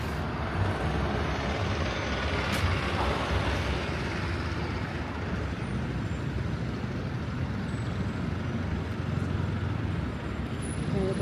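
Busy bus station in Mold, North Wales, with a steady wash of idling buses and passing road traffic, a faint air-brake hiss rising briefly near the start, the noise holding level throughout with no clear speech.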